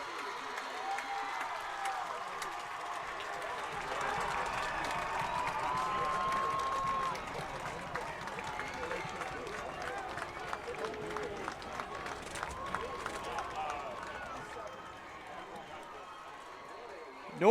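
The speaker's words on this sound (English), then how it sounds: "And listen to this crowd." Football stadium crowd at a high school game, Peoria Notre Dame at Normal West, cheering after the final whistle, a broad, steady roar with scattered claps and shouts, somewhat distant and rising briefly at the close.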